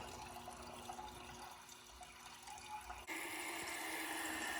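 Water is poured into the bowl of a 2012 VitrA Evergreen toilet over the top of the overflow, a steady rushing fill that grows louder and fuller partway through, with no talking.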